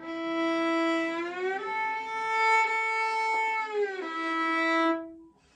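A single bowed violin line plays a combined position shift, holding a note, sliding smoothly up to a higher pitch, sustaining, then gliding back down before fading out.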